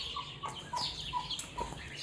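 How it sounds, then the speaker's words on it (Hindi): Chickens give soft, short clucks and chirps as a hen and her chicks come to eat in a village cage, several brief calls spread across a quiet background. "चूज़े आ गए हैं खाने के लिए"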